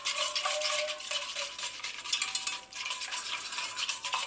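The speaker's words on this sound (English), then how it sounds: "I'm just going to give it a stir just to dissolve the sugar" A spoon stirs a sugar and turmeric eggless custard mixture in a pan, scraping steadily at close range in short repeated strokes. There is no talk.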